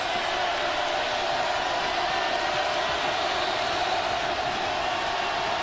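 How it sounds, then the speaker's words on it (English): A large college football stadium crowd at Auburn versus LSU, a dense, continuous roar of voices and noise holding at an even, loud level throughout, heard from within the stands. "Listen to this crowd, huh?"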